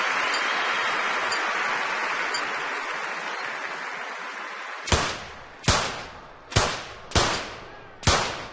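Five sharp pistol shots in quick succession from the men's 25-metre rapid fire event in a London 2012 Olympics video game, ringing out loudly after several seconds of steady, hissy arena ambience.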